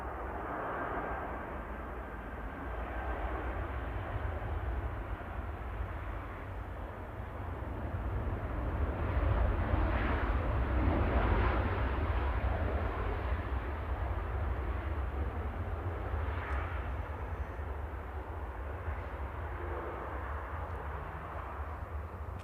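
A Boeing 737-800 airliner at Manchester Airport rumbles as a broad, distant jet roar that swells to a peak midway and slowly eases, steady and fairly faint throughout.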